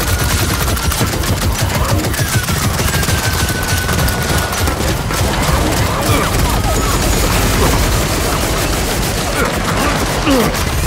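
Rapid bursts of automatic gunfire and heavy impacts pound nonstop in a Gears of War 4 firefight, with explosions and shouted voices mixed into the loud, chaotic combat.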